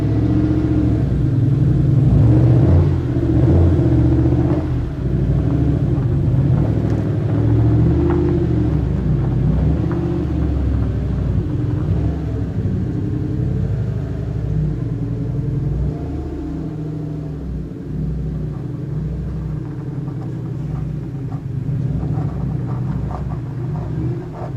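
Turbocharged 1UZ V8 from a Toyota LS400 running as the car is moved, a loud deep steady rumble close by that eases slightly toward the end, with no voices.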